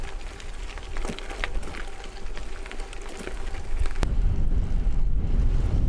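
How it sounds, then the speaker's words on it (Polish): Steady headwind buffeting the microphone while cycling on a gravel road through fields, a low roaring rumble that grows stronger and heavier toward the end, with no talking. "Cały czas pod wiatr"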